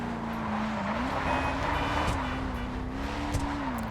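Declasse Drift Walton L35 in GTA Online drifting, a steady droning engine note that rises and dips slightly with throttle, mixed with continuous tire squeal and road noise, loud and close throughout.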